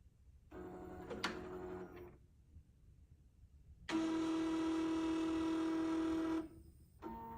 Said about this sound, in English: Once you hit OK, you'll notice a sound coming from your motor plate.